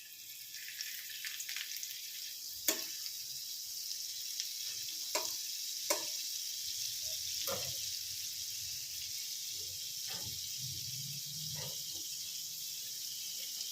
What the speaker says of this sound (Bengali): এবার আমি এতে এই একটা কিউব মাখন পুরোটাই দিয়ে দেবো।